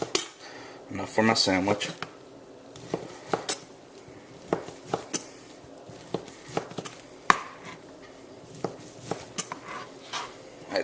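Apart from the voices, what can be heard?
knife cutting slices off a whole-muscle meat for a sandwich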